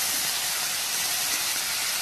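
Cut tomatoes sautéing in a pan with turnip pieces give a steady broadband hiss, even and unbroken throughout, close and fairly loud with no speech.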